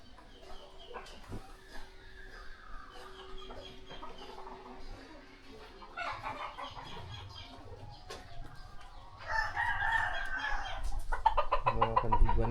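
Fighting roosters clucking at close range, scattered clucks and short calls building into louder bursts toward the end, with some quiet background talk.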